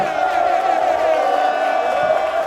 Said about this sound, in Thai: ขอเสียงปรบมือดังให้กับทั้งหมดด้วยนะ